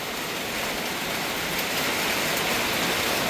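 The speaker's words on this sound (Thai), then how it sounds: "พอฝนตกปุ๊บนะฮะ ก็ลดความนะร้อนระอุลงไปได้เยอะมากเลยทีเดียวนะ" Steady rain falls over a farm in Sakon Nakhon, Thailand, during gusty winds, making a dense, even hiss that stays loud and constant throughout, with no voices.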